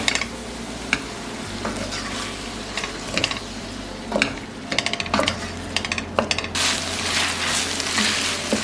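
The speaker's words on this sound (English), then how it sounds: "We're going to cook the onions until they soften and they have a beautifully golden or light brown color" Onions for Senegalese chicken yassa sizzle in a pot while being stirred, with scraping strokes and a steady frying hiss up close, plus a low background hum and no talking.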